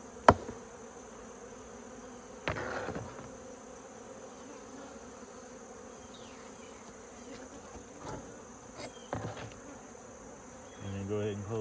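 Honey bees swarm and buzz around an open hive during a mite check, a steady insect drone with a few louder passes near the microphone and some brief handling clicks.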